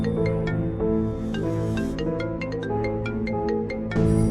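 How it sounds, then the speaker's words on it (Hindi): A mobile phone ringtone plays a repeating melodic pattern of bright tones over a steady musical background, moderately quiet and continuous for a few seconds. "अरे ये मोबाइल किसका बज रहा है"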